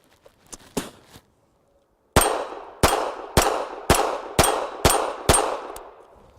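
A Makarov PM pistol fouled with sand is handled with a few light metallic clicks, then fires seven loud, sharp shots in a steady rhythm, each ringing briefly before the next.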